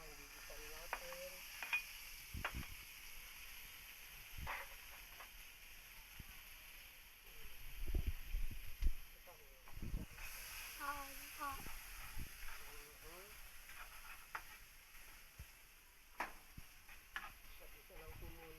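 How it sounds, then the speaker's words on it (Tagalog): Food sautéing in a pan at home, with a soft steady sizzle under scattered scraping stirs and clinks, while people talk quietly nearby. "So, yan, gigisan natin."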